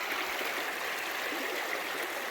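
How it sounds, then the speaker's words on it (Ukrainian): A steady, continuous rush of a dirty forest river flowing, bright and hissing, with no voices and no breaks. "таку бруднющу річку"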